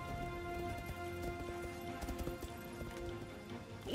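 Horse hooves gallop in a Total War battle game, a faint rapid clip-clop over a steady background of battle noise and tonal hum.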